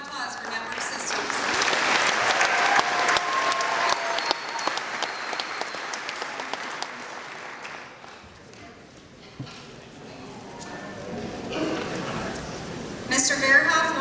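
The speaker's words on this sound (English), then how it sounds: "Another round of applause for Network Systems." An audience at a senior awards ceremony applauds award recipients, a dense sustained round of clapping that thins out partway through, then swells again near the end.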